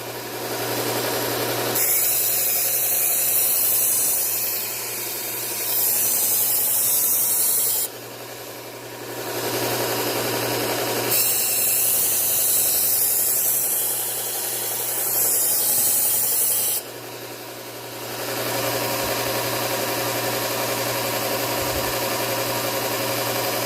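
A regular utility kitchen knife is sharpened on a powered sharpener: a steady motor hum runs throughout while two long, hissing, grinding passes rise and fall over it, with no talk.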